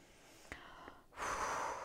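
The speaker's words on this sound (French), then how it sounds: "Prenez le temps de faire quelques grandes respirations longues et profondes." Quiet, deep abdominal breathing during a guided relaxation before dancing: a soft inhale, a short pause, then a longer airy exhale near the microphone.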